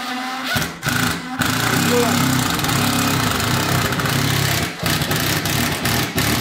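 An impact drill driver runs against plasterboard with a loud, buzzing motor drone held for several seconds, stopping briefly and restarting in short bursts, while people talk alongside it.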